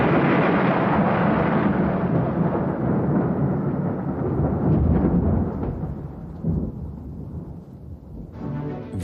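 Deep, rumbling thunder rolls on loudly amid a storm, gradually fading, with a hiss like rain underneath.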